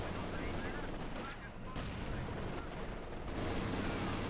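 Dense, continuous automatic gunfire from Vickers K light machine guns in the World War II strategy game Company of Heroes 2, a loud, unbroken wash of shots and battle noise.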